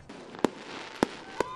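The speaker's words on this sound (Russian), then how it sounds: "Ну вот отзвучали праздничные салюты." Three sharp celebratory firework bangs from a holiday salute, at irregular intervals over a steady low background rumble, with no talk.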